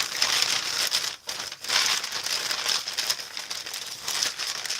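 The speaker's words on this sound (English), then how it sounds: "I love the sound of this paper." Paper for crafting is handled and crinkled up close, making a dense, continuous crackling rustle with brief pauses, fairly soft overall.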